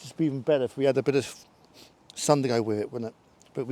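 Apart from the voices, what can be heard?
No everyday noises stand out.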